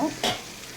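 Pointed gourd (potol) dropped into hot oil gives a brief sizzling burst, close and fairly loud, that quickly settles into a softer hiss.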